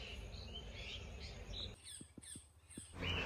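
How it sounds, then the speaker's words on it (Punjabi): Birds squawk and chirp in the forest greenery around a rural shrine, a few sharp calls standing out over a faint background of crickets and other insects, quiet and somewhat distant. "ਤੁਸੀਂ ਪੰਛੀਆਂ ਜਾਨਵਰਾਂ ਦੀ ਆਵਾਜ਼ ਸੁਣ ਸਕਦੇ ਹੋ ਜੀ"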